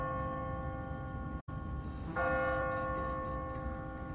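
An automatic church bell on a timer in The Walking Dead video game strikes one clear tone and then sustains a ringing hum that lingers quietly.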